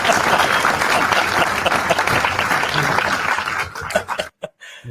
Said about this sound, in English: Everybody give Joey a round of applause